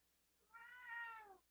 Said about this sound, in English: you guys can hear my cat meowing in the background